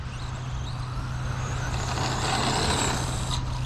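A Team Associated Pro2 SC10 2wd brushless RC short-course truck drives with a steady electric motor whine and a rushing rumble of tires over the ground, running continuously at close range.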